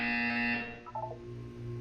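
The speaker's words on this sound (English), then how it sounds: "You will hear a buzzer. When you hear the buzzer, look up at the ceiling." A game buzzer from Portal 2 sounds as a steady electronic tone for about half a second, then gives way to a few brief chiming notes over a low hum of game ambience.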